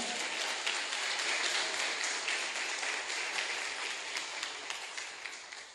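A church congregation claps for a few seconds, a soft, continuous wash of many hands heard at a distance at low level, fading slightly toward the end.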